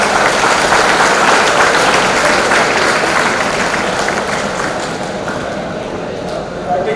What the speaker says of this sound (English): a good round of applause for him also